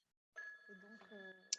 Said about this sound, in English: A telephone ringing.